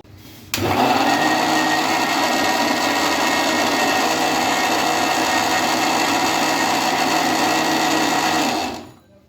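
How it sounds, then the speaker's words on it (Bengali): A blender whirring steadily as it purées a mango and banana milkshake, starting abruptly, running loud and even for about eight seconds, then winding down to a stop, with no talking. "এখন এটা আমি ব্ল্যান্ডারে ব্ল্যান্ড করে নিব"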